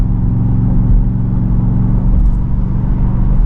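Ford F-150 Raptor R engine in normal mode at about 2,400 RPM while towing a travel trailer, a steady low droning rumble with even harmonics, loud and continuous with no talk.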